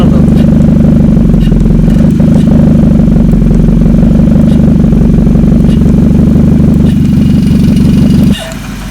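A Maruti Ciaz fitted with a valvetronic exhaust cutout idles with a loud, close, deep burbling drone that holds steady before cutting off abruptly near the end.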